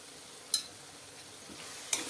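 Paneer masala gravy with kasuri methi is stirred in a pan: a soft, constant sizzle broken by two sharp scrapes of the spoon about a second and a half apart.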